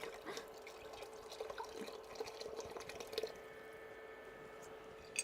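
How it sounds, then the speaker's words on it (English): Room-temperature water trickles and drips into a container during a floristry demonstration, a faint, steady splashing stream with a soft tonal ring that fades out toward the end. "So I'm just going to add that, and it's room temperature water."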